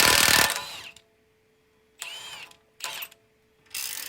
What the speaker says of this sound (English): I recently picked up this Milwaukee high torque impact, so I was excited to see how it would do.